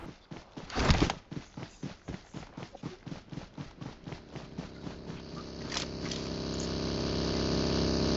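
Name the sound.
buggy vehicle engine approaching in video game BGMI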